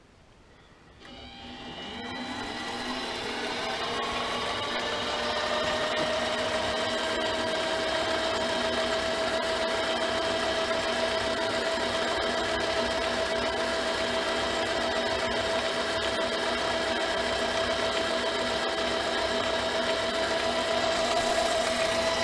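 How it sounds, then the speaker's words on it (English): A mini lathe cutting plastic at a deeper depth of cut, about 100 thousandths, runs as a steady close whine with a sustained tone throughout, building up over the first few seconds and then holding even. "It seems to do a very nice job cutting plastic. Let's take a deeper cut."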